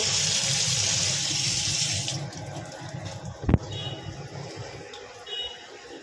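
Tap water runs steadily into a sink as hilsa fish are washed. The flow is loud at first, then cuts off, leaving a few clinks and faint household sounds.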